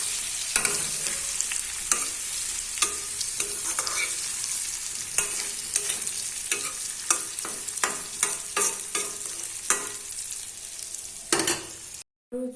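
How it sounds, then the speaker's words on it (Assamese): Amla pickle frying in a pan, with a constant sizzle broken by repeated sharp scrapes and knocks of a spoon stirring against the metal, ending in a brief gap of silence. "এইখিনি এতিয়া লৰাই দি অলপমান সিজিব দিম।"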